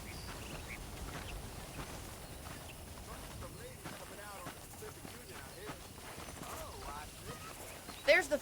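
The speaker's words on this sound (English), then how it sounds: "The horses are saddled up over here." Horse hooves clop in a steady rhythm in Red Dead Redemption, under low background noise, with a brief louder bump at the very end.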